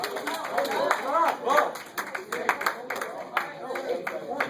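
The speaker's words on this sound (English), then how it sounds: "Everyone, a round of applause." Students in a classroom give a short round of applause, light scattered clapping mixed with lively voices and cheering over the whole stretch.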